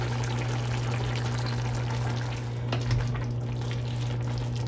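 Soy sauce and Worcestershire sauce pour into a pan of ground turkey casserole, a steady liquid trickle over a constant low hum, with a brief splash near the end.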